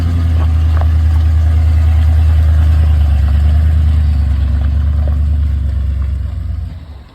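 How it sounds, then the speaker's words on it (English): An old Alaskan Bricknose truck's engine runs with a loud, steady low rumble at close range, holding a constant idle before fading slightly near the end, with no talk over it. "here goes Jessica, moving her truck, first time"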